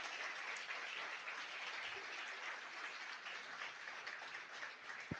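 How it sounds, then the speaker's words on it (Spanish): A church congregation applauds during an evangelical service, giving a steady, even wash of many hands clapping that carries on for several seconds, fairly quiet and heard at a distance in a large room. "Yo quiero que le reconozcamos con un aplauso a todos los que estuvieron trabajando aquí esta semana."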